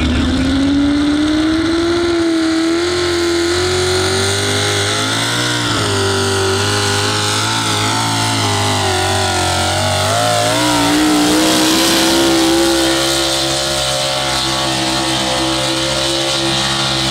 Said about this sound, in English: you hear that rap and rumble of the gassers